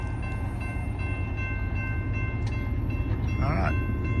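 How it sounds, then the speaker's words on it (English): A CSX freight train approaches trackside, a continuous heavy rail rumble with a brief horn-like tone near the end, loud and steady throughout. "We got a CSX coming."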